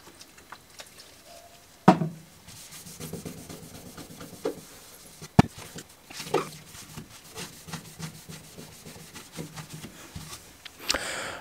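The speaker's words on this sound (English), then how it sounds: "this one's actually coming off much easier than the last one just by scraping it" Old hardened, putty-like thermal paste is scraped off an Xbox console chip, giving close, quiet scratching and rubbing strokes with a few sharp clicks and taps between them.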